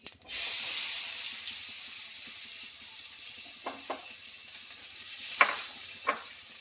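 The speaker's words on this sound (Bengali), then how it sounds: "তো লাল করে ভেজে নেব পেঁয়াজটা।" Chopped raw onion sizzles steadily in a pan after whole cumin seeds were fried, with a dash of salt; a continuous close hiss with a few sharp stirring scrapes near the end.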